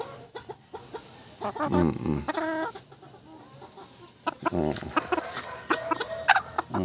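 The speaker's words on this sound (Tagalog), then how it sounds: "Ito yung inahin nila" A Silkie hen clucks repeatedly nearby in short, uneven bursts, with softer murmuring clucks between the louder calls.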